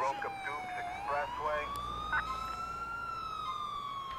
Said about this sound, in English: I forgot to turn off my siren.